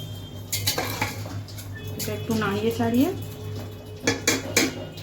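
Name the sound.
stirring food in a cooking pot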